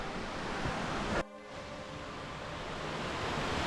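Continuous rushing water from a river and waterfall in a steep Lake District gill near Rosthwaite Fell, a broad roar that briefly dips and then returns as a steady close wash.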